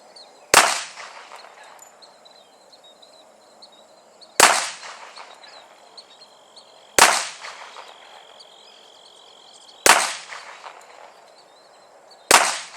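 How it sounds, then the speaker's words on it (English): A Springfield XDM .45 pistol fires five shots at uneven intervals of about two to four seconds, each a sharp loud crack trailing into a short echo, with no talking between. "Well, that was 5 shots."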